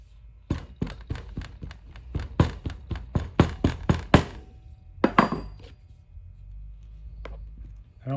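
A hammer strikes clay packed into a multi-use pouring handle kit in a rhythmic series of sharp, close taps, roughly a dozen blows that speed up then stop, with a couple of stray knocks afterward in a quiet room.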